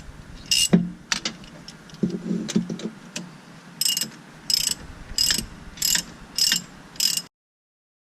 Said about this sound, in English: we're gonna take a 15mm and we're gonna tighten these bolts